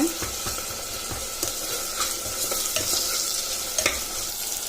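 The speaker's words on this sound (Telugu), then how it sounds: "ఇప్పుడు ఉల్లిపాయ ముక్కలు ఇలా బాగా వేగాక మనం కట్ చేసి పెట్టుకున్న టమాటా ముక్కలు కూడా వేసుకోవాలి" Onion and tomato pieces frying in a pan, giving a steady close sizzle throughout, with soft rhythmic scrapes and taps from a stirring spoon.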